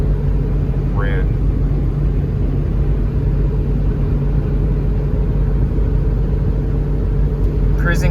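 A 1997 Ford Expedition Eddie Bauer Edition V8 with a four-speed automatic cruises on a highway at night near 2,000 RPM at 70 mph, a steady low engine drone and road rumble, with a voice talking over it.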